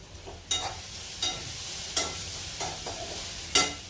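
Green chilies frying in a pan while being stirred, a soft sizzle with about six sharp scraping stirs at irregular intervals, close and moderately loud.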